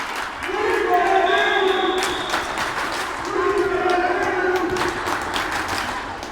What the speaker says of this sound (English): The crowd going ecstatic, and Braintree putting on a show early